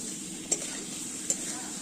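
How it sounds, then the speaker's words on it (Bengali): Fried potatoes stirred with spices in a pan over a quiet, steady sizzle, with two sharp utensil scrapes or taps against the pan roughly a second apart, close by and with no voices. "আলুটা আমি ভালো করে মশলার সঙ্গে নেড়ে নেব।"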